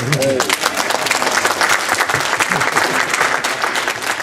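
An audience at a public meeting about a leisure centre claps steadily, a close, dense round of applause that fills the whole stretch, with a voice intruding briefly near the start.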